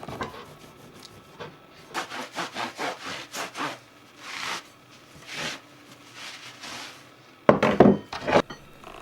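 Metal bars from a homemade fireplace guard are hand-sawn in half, held in a wooden offcut jig: steady back-and-forth rasping strokes in short runs with brief pauses, close and clear, ending in a louder, faster burst.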